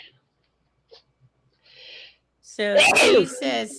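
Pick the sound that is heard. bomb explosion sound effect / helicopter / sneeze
sneeze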